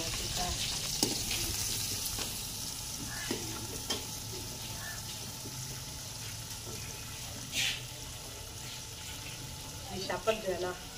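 Onions fry in hot oil, a quiet continuous sizzle with occasional clinks and scrapes of a utensil, heard in a village kitchen beneath faint background noise and some indistinct voice.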